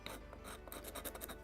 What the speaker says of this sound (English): to get proper 90 degrees I'm just sanding it with a block